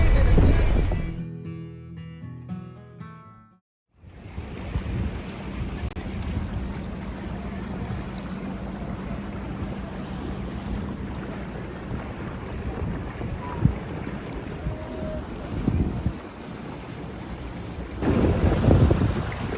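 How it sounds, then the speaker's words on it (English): Stormy, buffeting wind roars across a boat at sea off the Florida Keys, a steady loud rumble of wind and water with occasional gusts and bumps after a short burst of other sound at the start. "Heck of a stormy time today."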